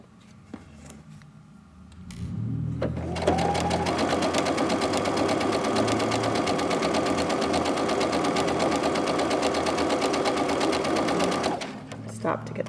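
A sewing machine runs steadily for several seconds, stitching forward and back along the edge of scrunchie fabric, loud and close, with a voice speaking over the start.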